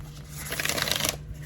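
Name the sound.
shuffling a tarot card deck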